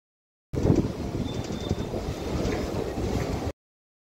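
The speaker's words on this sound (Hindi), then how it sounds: "धुबरी से 19 किलोमीटर की दूरी तय करने के बाद हमारी ट्रेन पहुंच चुकी है गोलकगंज" A passenger train pulls into Golakganj station on the Dhubri to New Cooch Behar line, its carriages rumbling steadily close by with faint rail clatter and wind throughout.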